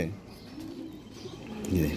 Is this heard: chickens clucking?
no